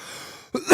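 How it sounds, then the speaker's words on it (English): Single short throat-clearing cough from a person close by, a brief rough burst rising to a harsher peak after a moment of quiet. "sorry for the cough"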